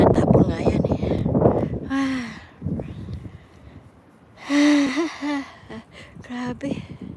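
Heavy, ragged breathing and gasps from a man out of breath after exertion outdoors, close to the microphone, with voice sounds mixed in.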